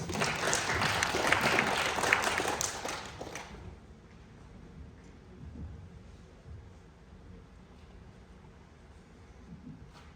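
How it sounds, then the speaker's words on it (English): Audience applause after a ninth grader's business pitch, a loud burst of clapping for about three seconds that cuts off abruptly into quiet room tone. "If you want a round of applause"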